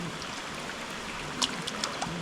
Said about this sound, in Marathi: गलीचं पाणी आता आपण इथून खाली फिरवलं आहे